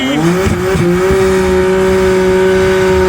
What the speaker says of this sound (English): Look at that burnout.